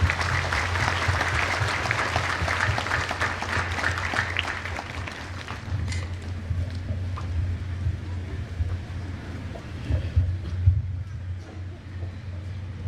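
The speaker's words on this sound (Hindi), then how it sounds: "उसके बाद जोर से ताली बजाएं।" Loud, dense applause from a church congregation at a priest's ordination, sustained clapping swelling over the first half then thinning to scattered claps over a steady low rumble, with some voices mixed in.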